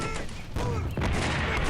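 Mortar impacts and gunfire in the wargame Combat Mission: Beyond Overlord, loud heavy booms and crackling volleys packed into a short, dense burst of battle noise.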